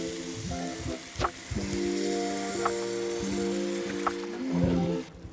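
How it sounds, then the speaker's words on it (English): Beef broth poured into a hot pot of dirty rice, bursting into a loud, steady sizzle and bubbling that holds close and continuous throughout, with a few sharper crackles. "I'm gonna come with my beef broth."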